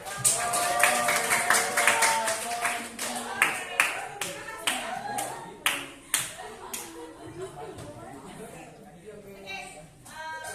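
Children in an English class clap for a group of girls who have just presented, a quick burst of scattered hand claps that rises, then thins out and fades, with young voices chattering over it.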